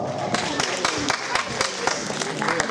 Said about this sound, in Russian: Ваши аплодисменты, Екатерина Чернышова.